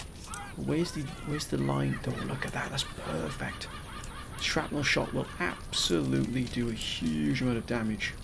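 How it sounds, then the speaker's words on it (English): Seagulls squawking and laughing-like calls in the background, recurring in clusters behind someone speaking continuously in the foreground. "We've got a lot of seagulls currently loitering about. You can hear them in the background."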